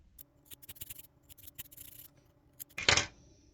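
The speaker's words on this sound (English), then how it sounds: "now you can cut your working yarn" Scissors snip through crochet working yarn in one short, crisp cut near the end, after a stretch of soft rustling and handling sounds.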